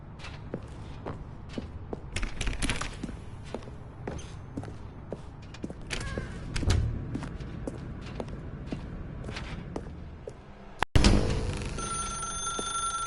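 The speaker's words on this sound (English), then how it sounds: "Now pick up the phone" In The Stanley Parable video game, a telephone rings amid steady footsteps and scattered taps, and a sudden louder ringing burst breaks in near the end, with no speech.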